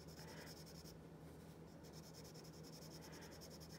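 Pencil lead scratches steadily across paper in close, continuous shading strokes while a Celtic braid is drawn, with an even rasping texture and no talking.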